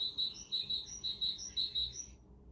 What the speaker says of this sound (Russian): Это синица. Синица. Да, она так пищит.